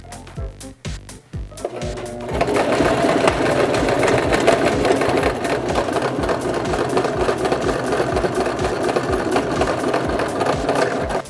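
A sewing machine stitches a thrifted garment being turned into a crop top, skirt or dress, starting with a few short bursts and then running in a loud, steady, close whir for several seconds.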